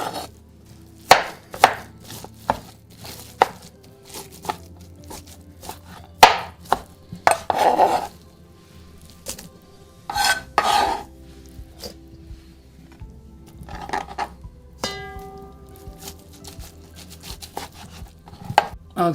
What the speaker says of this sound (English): So we're gonna start chopping like this.